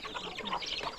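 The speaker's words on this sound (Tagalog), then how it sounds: "Oh, dadampot na raw ng manok guys." A chicken gives a few soft, quick clucks as it is picked up, faint and close amid light background noise.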